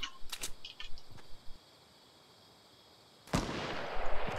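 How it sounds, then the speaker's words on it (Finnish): Gunfire in a battle royale video game session: a few sharp cracking shots early on, then a quiet pause before a loud broadband burst of noise at the end, with no talk heard. "Laukaus."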